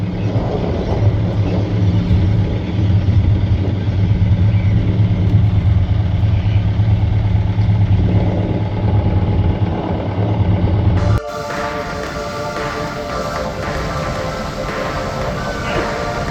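Tugboat engines churn steadily and loudly during a tugboat race off Great Barrier Island, New Zealand, a continuous close rumble that drops abruptly to a thinner, lower-level drone partway through.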